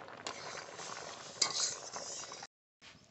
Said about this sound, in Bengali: ডাল ঘুটে জল দিয়েছি